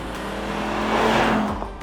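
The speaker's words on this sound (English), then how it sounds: "I listen to that engine driving up through this road" A Jaguar XK's V8 engine drones loudly and steadily as the car drives up a road, rising slightly in pitch before easing off, heard from close by.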